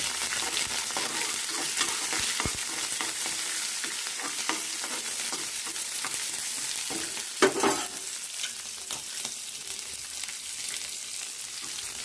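Onions, green chillies and ginger sizzle and fry steadily in a hot pan, a continuous close crackle with occasional sharper pops and one brief louder clatter partway through.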